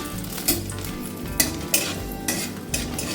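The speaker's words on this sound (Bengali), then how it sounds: "এটা একটু ভাজা ভাজা হলে তারপরে বাকি ফোড়নগুলো দেব" Whole cardamom pods, cracked open, and cinnamon pieces frying in hot oil in a pan for a jackfruit and chana dal dish, with a steady sizzle broken by several sharp scrapes and clinks of a spoon stirring the spices, close and moderately loud.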